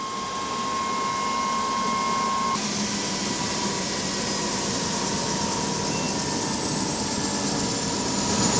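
Engine of a KUH Surion utility helicopter on cold-weather test flights in Alaska, winding down to shutdown. A loud, continuous turbine roar carries gliding whine tones that slowly fall in pitch.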